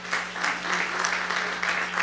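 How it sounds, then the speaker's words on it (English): Crowd at an evening awards gala clapping briefly, a moderate wash of applause with a low steady hum underneath. "Give yourselves a round of applause"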